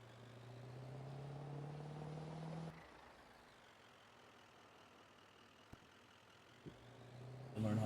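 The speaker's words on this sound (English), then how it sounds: "let me get the truck over to here" A truck engine idles and runs near a shed, a low rumble that drops off partway through, followed by a few clunks and the engine coming back at the end.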